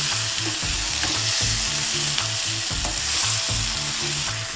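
Onions frying crisp in a pan for a Rayalaseema spicy chicken curry, a loud steady sizzle with rhythmic scraping stir strokes throughout.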